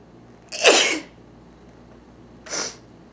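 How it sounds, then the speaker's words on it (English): A person sneezes twice up close, a loud sharp burst followed about two seconds later by a shorter, softer second sneeze, with quiet in between. "see if I can make myself sneeze and keep my eyes open"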